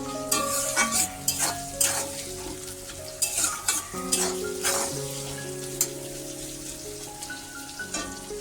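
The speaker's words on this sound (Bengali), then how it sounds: "পেঁয়াজটা ভাজা হচ্ছে তো পেঁয়াজে এক চামচ লবণ দিয়ে দিলাম" Onion frying with a spoonful of salt in an oiled wok while biryani is being cooked, a steady crackling sizzle broken by repeated scraping strokes of a spatula against the pan, close up.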